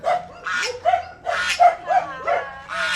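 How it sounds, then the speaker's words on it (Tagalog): A dog barks and yips repeatedly at close range beside its pen on a countryside farm in the Philippines, a rapid series of high, whining barks one after another. "may isa pang aso na nandito nga"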